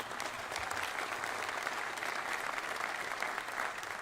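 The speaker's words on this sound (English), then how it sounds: "Please join me once again to give Colleen another round of applause for her leadership." Steady, dense audience applause fills a hall at the University of Maryland's introduction of its new men's basketball head coach, an even wash of many hands clapping at moderate distance without a break.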